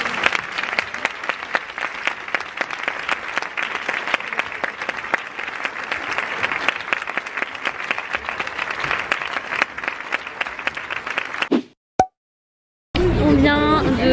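A cinema audience gives actors Arnaud Ducret and Louise Bourgoin a long round of applause. Dense, even clapping from a large crowd runs for about twelve seconds, then cuts to silence before a brief burst of other sound.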